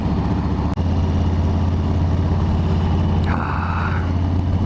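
Harley-Davidson motorcycles idle close by, a loud, steady low-pitched engine rumble with a dense pulsing throb, a brief click near the start and a short higher whine joining later.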